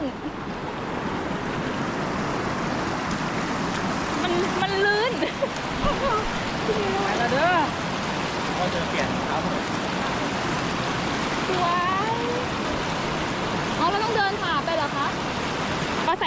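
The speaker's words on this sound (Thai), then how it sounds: "สวยน้ำตกเจ็ดสีจังหวัดบึงกาฬชั้นที่หนึ่ง" Seven-color waterfall, Nam Tok Chet Si, in Bueng Kan, Thailand, gives a steady, loud rushing roar of falling water throughout, with people's voices calling out faintly over it at times.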